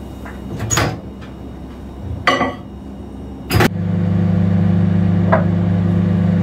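A microwave oven heating a bowl of husk for 20 seconds: a few clicks and knocks as the door shuts, then a steady loud hum runs alone, with one small knock partway through.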